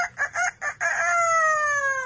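A pet parrot mimics a rooster's cock-a-doodle-doo, with four quick choppy notes and then a long, drawn-out tonal crow, fairly close and clear.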